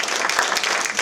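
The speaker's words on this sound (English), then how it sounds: "She needs a round of applause." A brief burst of close, dense clapping from a small breakfast club meeting group.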